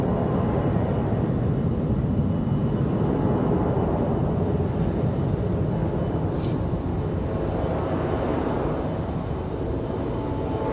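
An airliner arriving at Raleigh-Durham International Airport, inbound from BWE, gives a steady, heavy jet roar that fills the whole stretch without pause. A faint whine sweeps through partway.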